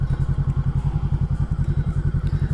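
A Voge 500 DS motorcycle engine thumps along in a steady rapid rhythm, loud and close, with wind rush over the top as it rides.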